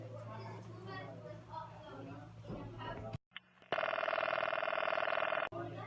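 An old-style telephone ringing through to a police department precinct gives a loud, steady tone after a brief silence, following a stretch of talking.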